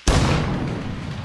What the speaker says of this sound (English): Blast the cannon.